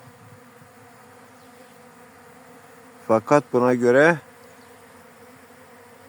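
A steady, low droning hum of many honeybees buzzing around a hive, continuing beneath a brief spoken phrase from a nearby man.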